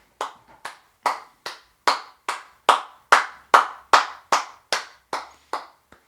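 A person claps slowly and evenly as an impersonation of Donald Trump, about fourteen sharp, loud claps spaced roughly half a second apart, with no talking over them.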